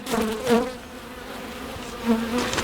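Honey bees buzz close by during a hive inspection, a steady drone with a few louder swells as individual bees pass near.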